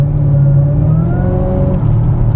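A supercharged Chevrolet Camaro SS V8 drones steadily and loud from inside the car, a sustained engine hum with faint rising whine lines of the compressor and no talking.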